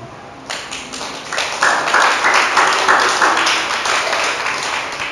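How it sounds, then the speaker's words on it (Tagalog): A church congregation clapping during a sermon, a dense rhythmic round of many hands that swells after a brief quiet start and holds steady and loud to the end. "Ituloy niyo yung palakpak niyo."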